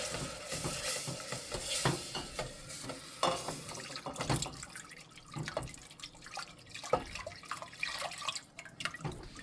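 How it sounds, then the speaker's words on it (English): Milk is slowly poured into a roux for macaroni and cheese, giving a soft, uneven liquid splashing and gentle sizzling from the pan, quiet and close with faint stirring clatter. "to that roux mixture, we're going to add 1½ cups of milk. Just going to slowly add that."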